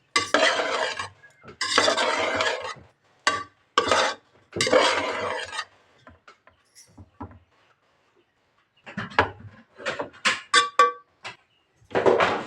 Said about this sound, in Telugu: కలిసేలా మొత్తం కలిసేలా కలుపుకుందాం